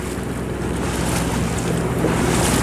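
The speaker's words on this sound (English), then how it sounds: "The wind's filled in." Wind rushing past a sailboat during a race, with water washing along the hull; a steady, close, broadband roar with light buffeting on the microphone and no voices.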